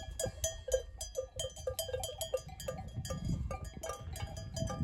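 Bells hanging on grazing sheep clank and clink in quick, uneven strokes as the flock moves through the rain, a steady run of metallic tones close by, with a low rumble of rain and wind underneath.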